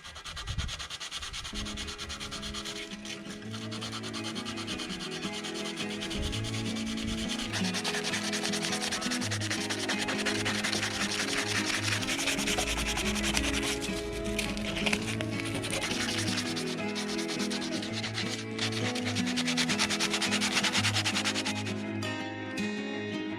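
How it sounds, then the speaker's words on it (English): A wooden hobo fishing reel is sanded by hand, a steady, close rasping rub that runs continuously for over twenty seconds with no talk. "Now, we sand."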